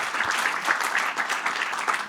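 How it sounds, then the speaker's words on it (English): Audience applause for the AV crew at a tech conference: dense, steady clapping from a sizable crowd that fills the room evenly, with no break and no voice over it. "a round of applause for the AV folks"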